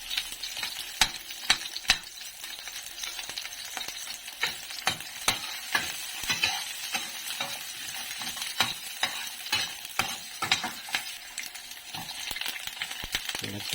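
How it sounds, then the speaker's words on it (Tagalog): Garlic and onion sauté in a pan for ginataang gulay with prawns, a steady hissing sizzle broken by frequent sharp clicks of a spatula against the pan, close up, with a voice talking at times. "Yan, sosote na ng garlic at saka sibuyas."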